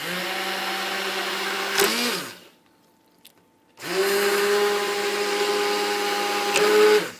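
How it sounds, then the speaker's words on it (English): A blender blending asparagus soup whirs loudly with a steady motor drone, cuts off for a moment of near silence, then starts up again and runs steadily. "I've started the process of blending."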